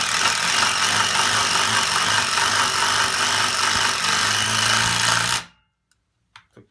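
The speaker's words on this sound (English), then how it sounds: "We're going to start with the DeWalt here. Again, I'm going to set the lag, and then I'm going to really go into it." A DeWalt brushless impact driver hammers a lag screw into wood in one continuous loud burst of rapid impacts for about five seconds, stopping abruptly, followed by a few faint clicks.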